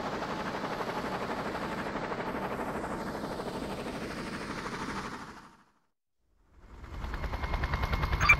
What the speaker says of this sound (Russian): В воздухе еще вертолеты.